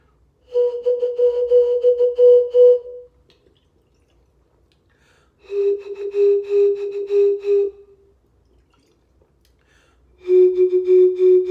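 Three separate whistled tones from a water whistle, each a couple of seconds long with pauses between, the pitch shifting slightly from one to the next as the water level changes.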